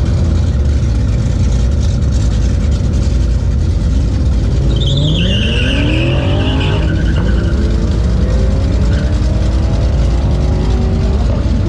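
A GT Cruiser does a burnout with its e-brake on, dragging the back tires on a wet, foggy track: a loud, continuous engine roar under harsh tire squeal that rises in pitch partway through, close and steady throughout.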